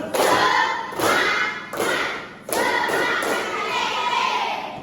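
A class of children performs a rhythmic spirit clap, tepuk semangat, with loud clustered claps in bursts separated by short pauses and a few young voices chanting along.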